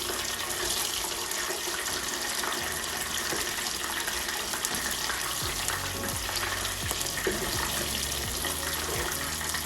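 Plaice fillet sizzles loudly and continuously in a hot pan, a dense crackling hiss with occasional scraping and shifting as the fish is turned.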